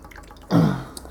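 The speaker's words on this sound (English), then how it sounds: "We'll also drop in some water." Water is dropped onto a paint palette holding ultramarine blue, giving a single short splash and trickle against a quiet room.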